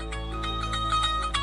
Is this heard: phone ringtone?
yes